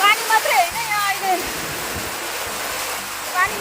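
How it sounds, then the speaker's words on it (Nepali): Heavy rain and gusting windstorm in Kathmandu roar as a steady broadband wash, loud and close, with a few brief whistling tones early and late. "पानी मात्रै आइरहेको छैन, हावा हुन्डरी पनि आइरहेको छ।"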